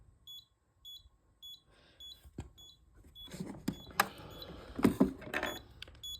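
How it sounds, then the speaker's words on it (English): A CE Electronics ACME lift position indicator sounds its floor passing chime as a series of short, evenly spaced electronic beeps, followed by louder clunks and rattling mechanical noise. "This is the official CE Electronics floor passing chime."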